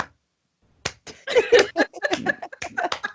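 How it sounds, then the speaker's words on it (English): After a moment of silence, sharp hand claps ring out in an uneven string of close, crisp slaps, some isolated and some bunched together, with no one talking. "That's when you hit him with the little slow clap."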